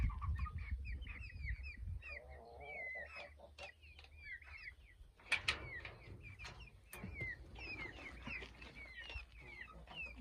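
Chicks cheep in rapid high peeps near and far, with a few louder chirps and some low rustling underneath.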